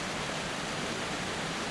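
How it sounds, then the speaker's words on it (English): Rushing water pours over the top of a giant waterfall inside a cave, a dense, steady roar that fills the space without pause and sounds close and enveloping. "the top of the waterfall right here."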